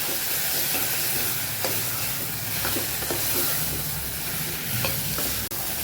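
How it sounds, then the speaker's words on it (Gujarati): Red chilli powder and spices sizzle steadily in a hot pan for a green onion and potato curry, with occasional scraping as they are stirred; the frying hiss is continuous and close. "સરસ મિક્સ કરીને સાતડી લેવાનું છે"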